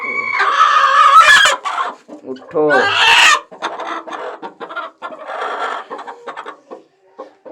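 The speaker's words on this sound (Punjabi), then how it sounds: "ਭਾਈ ਜੀ 2 ਕੁਕੜੀਆਂ ਕੜਕ ਹੋਈਆਂ ਨੇ" Two broody hens in a coop give loud, agitated clucks and squawks up close, mixed with other farmyard chicken noise while someone speaks briefly nearby.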